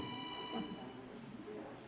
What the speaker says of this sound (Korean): 또 어머니가 전화하셨나 봐요